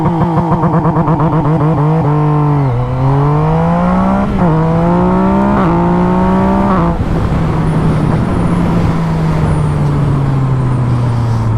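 Yamaha MT-09 motorcycle engine held on launch control at about 7,000 RPM, a loud, close, sustained rasping drone with repeated pitch steps, then a long steady hold easing slightly downward.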